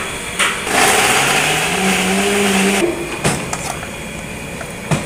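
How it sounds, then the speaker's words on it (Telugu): A mixer grinder whirs loudly, grinding halved green chilies with coarse salt in a short high-pitched run that rises and then winds down, followed by a few knocks and clatters, with no voices. "దొడ్డుప్పును కూడా యాడ్ చేసుకొని మిక్సీ పట్టుకోవాలి."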